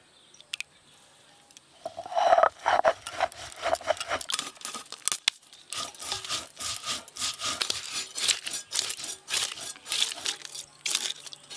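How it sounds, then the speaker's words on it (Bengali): Poppy seeds ground by hand on a flat grinding stone: repeated rough scraping and rubbing strokes in an irregular rhythm, close and fairly loud, starting after a short quiet moment and continuing steadily. "এই যে পোস্তুর বড়ার জন্য পোস্তুগুলো বেটে নেব।"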